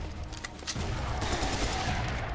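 Rapid gunfire in the shooter Serious Sam 3 BFE, with a dense, continuous burst of shots that starts partway in and holds loud and steady over game noise.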